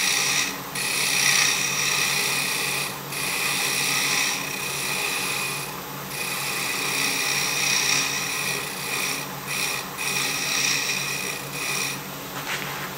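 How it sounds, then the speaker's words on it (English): A wood lathe scraping tool works a small sea urchin ornament, giving a steady close rasping whir with faint shifts in pitch and a few brief breaks in the cut, with no voices. "I'm going to do a little scraping on this."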